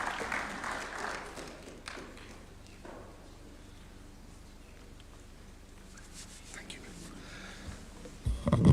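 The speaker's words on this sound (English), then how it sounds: "Let's welcome him with a warm clap, please." An audience at a national economic vision event gives a short burst of clapping that fades into quiet murmurs and footsteps, then picks up again loudly at the very end.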